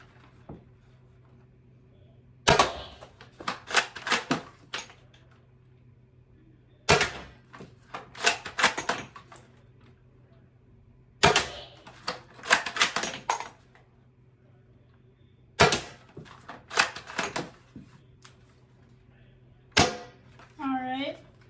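AGM Mastech sniper rifle firing single shots from its magazine, several sharp, close cracks spread in groups across the stretch, each followed by a brief rattle of clicks, over a steady low hum.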